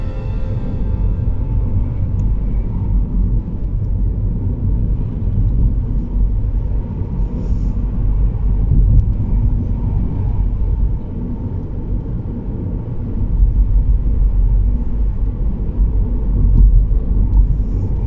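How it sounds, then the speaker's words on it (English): Continuous low rumble and road roar from a Mini Electric Cooper SE travelling over a bumpy road, steady and loud throughout with no speech. "they've got a terrible bumpy road in Munsley"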